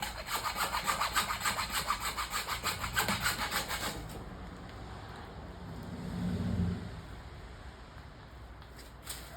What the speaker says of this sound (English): The good old handsaw.